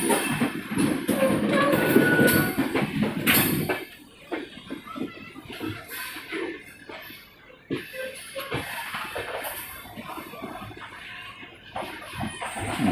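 A train pulls into a station with a heavy, loud rumble over the first few seconds, then quieter rattling and clanking of the carriages as it slows.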